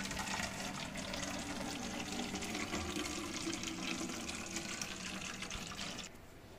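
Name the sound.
water being filled into a bottle from a filter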